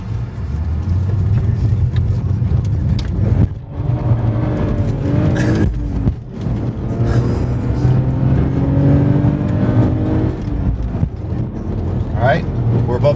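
A BMW cruises above 60 mph on the road with a worn driveshaft. It gives a steady, loud low drone and a faint whirring hum over the engine and road roar, while people talk inside the car.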